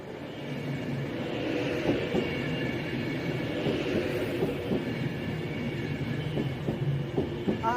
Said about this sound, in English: So we're going diverted Pendolino to diverted freight.